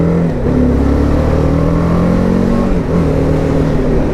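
A BMW 310 GS motorcycle engine revs steadily and loudly up close, a sustained harmonic drone that dips briefly and rises again, with no talking over it.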